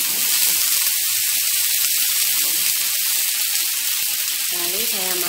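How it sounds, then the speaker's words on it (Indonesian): Water poured into a hot pan while cooking tteokbokki sets off a loud, steady sizzle and hiss that stays close and continuous. A voice is briefly heard toward the end. "lalu saya tambahkan sedikit air"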